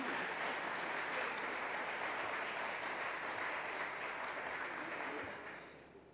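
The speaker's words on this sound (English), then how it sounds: "Those who are against the motion, those who were won over by the other side, please show us your applause." Debate audience members against the motion applaud together, a broad, fairly distant wash of clapping that holds steady, then tapers off toward the end.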